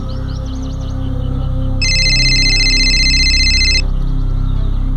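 A phone ringtone sounds in a Bengali radio drama: a steady, bright electronic ring lasts about two seconds, clearly above a low background of music and room murmur. Nobody speaks.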